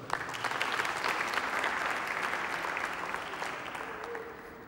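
Audience applause at an evening talk about cycling in Portugal, a dense, lively burst of many hands clapping that gradually fades toward the end, with a faint murmur underneath.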